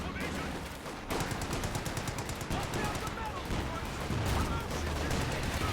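An anti-tank gun and machine guns fire in a World War II strategy game battle, a dense unbroken clatter of rapid automatic bursts mixed with sharper cannon reports, loud and continuous throughout.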